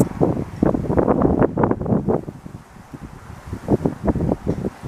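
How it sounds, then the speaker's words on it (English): Gusty outdoor wind buffets a microphone at Acton's national monument, a loud low rumbling roar that surges and dips in uneven pulses, with no voices. "It's a little windy today."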